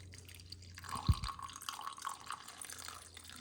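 Freshly brewed Madras filter coffee is poured, a soft liquid trickle and dripping with one small clink, faint and close against a quiet background.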